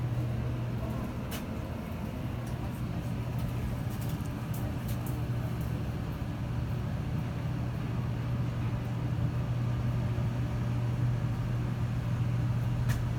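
An 1980s Montgomery hydraulic freight elevator with manual Guilbert doors, worn and in an office building, arrives after a call with a steady low mechanical hum that runs unbroken throughout, a few faint clicks overhead.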